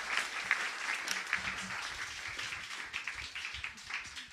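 Audience at a youth participation forum breaks into steady applause, a dense wash of many hands clapping that holds throughout, moderately loud and with no talk over it.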